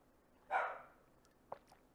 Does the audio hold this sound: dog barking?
yes